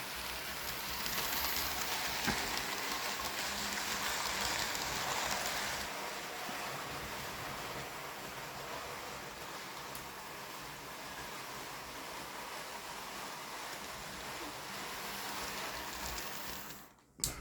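A Black 5 model railway locomotive runs steadily along the track, its even rolling rumble filling the background throughout before stopping abruptly at the end.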